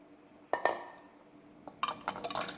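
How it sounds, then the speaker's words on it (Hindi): A bowl is picked up and set down in a home kitchen during Russian salad preparation, giving a couple of sharp clinks followed by a cluster of lighter ceramic knocks and rattles, close and clear. "एक बाउल ले लें।"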